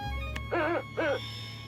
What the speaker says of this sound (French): Il avait aussi apporté Oggy, le super hibou doté d'un super pouvoir très particulier.